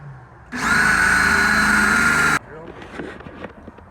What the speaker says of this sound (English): So now we're going to drill the back 2 holes.